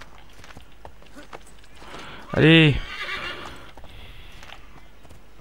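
A horse in the video game Assassin's Creed 3 lets out one loud whinny with hooves clopping nearby, while someone talks in French over the game sounds.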